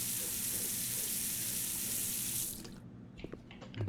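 Water runs from a sink tap in the video game Denizen, a steady, loud rushing hiss that cuts off abruptly near the end, leaving a few small clicks and knocks.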